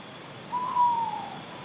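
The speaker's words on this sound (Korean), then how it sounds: "그리고 가끔씩 들리는 올빼미의 울음소리." An owl gives a single soft, drawn-out hoot at night, heard alone over a faint, steady background hiss.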